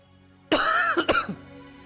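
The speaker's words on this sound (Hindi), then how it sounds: "तुम खांस रहे हो?" A single close, sharp cough, quickly followed by a shorter second cough and a throaty rasp, with quiet around it.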